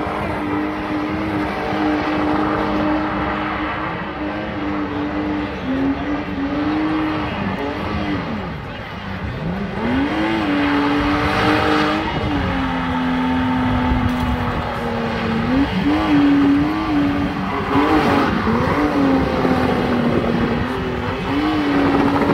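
A car with a dropped, dragging exhaust drives past with a loud, continuous droning rumble, its pitch rising and falling as the engine revs, heard close and unbroken for over twenty seconds.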